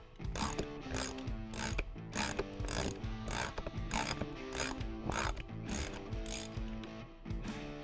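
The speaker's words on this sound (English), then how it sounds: "So we're going to go ahead and remove the stock cylinder." Ratcheting clicks from a tool loosening the stock cylinder on a linkage shock absorber during a bladder conversion. The clicks come in quick, repeated bursts with steady rhythm, close up, and no voices.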